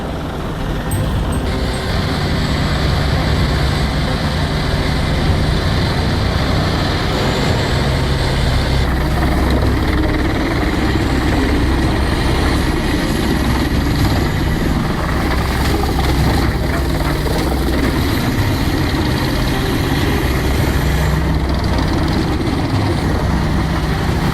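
The HEM 582R machine working raw timber gives a loud, constant heavy-engine drone with a throbbing low rumble and shifting whine, unbroken for over twenty seconds.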